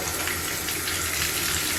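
Shower water running steadily at full flow, a loud, continuous hissing spray close by with no voices.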